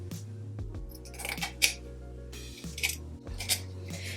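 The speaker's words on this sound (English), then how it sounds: "because I decided to use the sequins, I got to get all this cut out now" Scissors snip through sequin fabric being cut out for a holiday craft, with several crisp, separate cuts and faint metallic clicks over a steady low room hum; no one talks.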